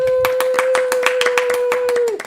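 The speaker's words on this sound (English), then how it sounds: "Applause, applause, applause. Maximum applause." A small audience claps after a jazz song, with sharp, distinct hand claps in an uneven rhythm close by, while a sustained tone rings underneath and then fades at the end.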